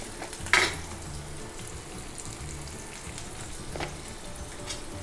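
Potatoes frying in a kadai with red chilli powder and asafoetida, a steady sizzle with a sharp burst near the start and soft stirring scrapes, no voices.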